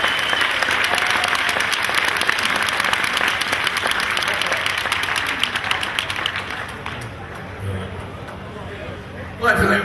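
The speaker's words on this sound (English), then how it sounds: "Give them a big round of applause." Loud, sustained audience applause for volunteers at an outdoor gathering at Ripley Castle, with dense clapping and crowd babble that fades toward the end before a brief burst of noise.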